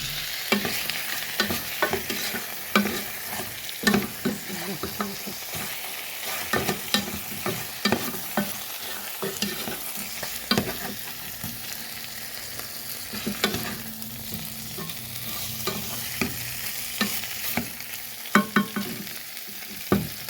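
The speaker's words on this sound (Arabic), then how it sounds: "هسه راح اذب هذا فوقه حتى يتحمس شويه." Onion and pork ribs sizzle in a pot for an Iraqi lentil stew with zucchini, a spoon scraping and stirring in irregular bursts over a steady frying hiss.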